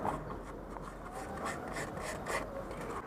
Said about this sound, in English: This has buildup on it, so I'm just going to sand that a little bit just to get the old stuff off there.